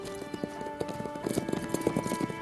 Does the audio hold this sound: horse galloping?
yes